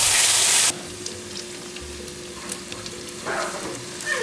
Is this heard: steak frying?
yes